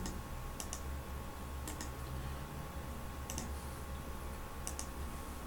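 Short bursts of clicks from keys on a computer keyboard as a command is typed, spaced a second or so apart, over a steady background hum and with no speech.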